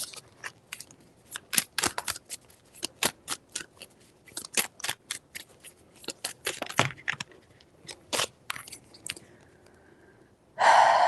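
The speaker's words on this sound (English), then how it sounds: "Let me just shuffle this right quick." Oracle cards shuffled by hand at close range, giving a run of quick crisp slaps and flicks in irregular bursts, followed by a short louder rustle at the end.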